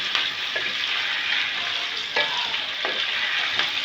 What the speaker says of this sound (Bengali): দেখুন চিকেনগুলো ভাজা ভাজা হয়ে গেছে